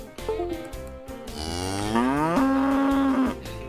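A cow lets out a long, loud, drawn-out moo, rising in pitch and holding before it stops, close and alone.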